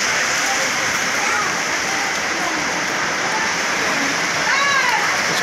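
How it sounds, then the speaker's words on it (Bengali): Heavy rain falls at a railway junction platform, a loud, dense, steady hiss of rain on surfaces close by, with faint distant tones drifting in near the end. "আজকে যে পরিমাণ বৃষ্টি"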